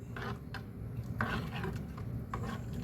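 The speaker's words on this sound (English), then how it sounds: "Now we're gonna bring this to temperature as I slowly stir it." Hot cocoa with butter stirred slowly in a pot as it heats, with soft scraping and light metallic clinks of a spoon against the pot, quiet and close.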